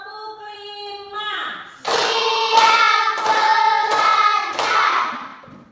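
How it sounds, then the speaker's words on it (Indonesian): Schoolchildren in a classroom clap together in a rhythmic pattern after a chanted count, a series of loud, evenly spaced group claps with voices underneath. "Tepuk 5."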